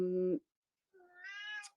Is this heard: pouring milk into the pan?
no